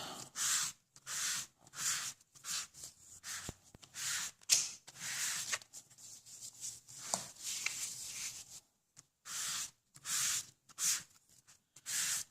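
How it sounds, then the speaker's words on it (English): Glossy white cardstock is sanded by hand in a series of brisk, rhythmic rasping strokes close up, each scrubbing burst separated by short pauses. "the first layer is the one you're going to do the most sanding of"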